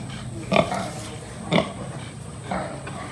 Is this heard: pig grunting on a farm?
yes